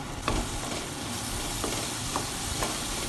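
A spoon stirs yogurt into mutton biryani masala in a sizzling pot, a loud continuous hiss and crackle with a few soft scraping knocks, close up and without speech.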